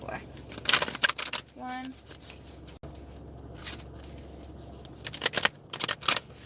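A deck of playing cards is shuffled by hand in quick riffling bursts, close and crisp, with a short spoken count and a brief tonal beep in between.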